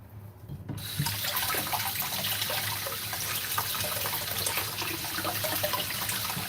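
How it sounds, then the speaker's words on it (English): Tap water runs steadily into a sink as carrots are rinsed for a carrot cake, a continuous close hiss and splash that starts abruptly after a brief quiet moment and carries on alone. "it's time to wash some more carrots. Wash the next carrots."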